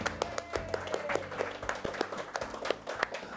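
A small audience claps in a room, a sparse, uneven patter of individual hand claps rather than a full roar, continuing steadily at moderate volume with no talk over it.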